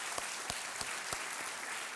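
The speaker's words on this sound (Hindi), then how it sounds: "आपके लिए हम ताली बजाना चाहेंगे" A studio audience on a televised quiz show applauds steadily at a low level, with a few sharper claps standing out in a loose rhythm.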